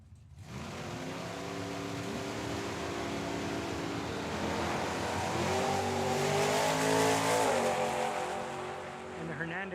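A Mustang and a Nova drag race side by side at Tucson Dragway, engines roaring and revving hard as they accelerate, with gear-change shifts in pitch, heard at a distance.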